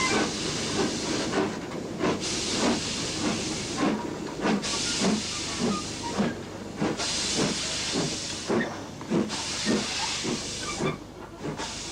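A Stanier-named steam locomotive pulls away with a down express, heavy rhythmic exhaust beats chuffing steadily amid loud hissing steam, close and powerful.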